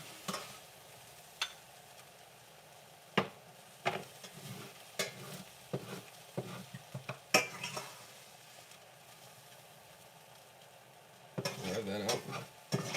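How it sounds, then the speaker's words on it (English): Vegetables sautéing in a pan after meat has been cooked in it: scattered clinks and scraping stirs over a faint, low sizzle, with a brighter burst of sizzling near the end. "I'm going to use this pan to saute the vegetables"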